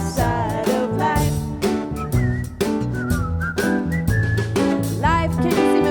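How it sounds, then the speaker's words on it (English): Whistled melody carried over a played song with band accompaniment and singing, the bright whistling line rising clearly above the music for several phrases. "then purse your lips and whistle, that's the thing"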